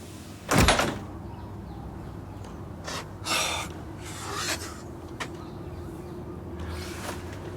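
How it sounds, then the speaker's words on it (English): A door shuts with a single sharp thud near the start, followed by faint rubbing and scraping sounds in a quiet indoor room. "I'm closing the door."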